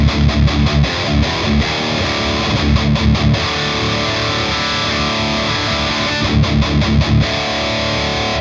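A Schecter electric guitar tuned to drop D runs through a Driftwood Mini Nightmare amp with a Boss Waza Tube Amp Expander into a Grossmann 1x12 V30 cab, miked up. It plays loud, crunchy distorted chugging riffs with rhythmic stops, with no voices.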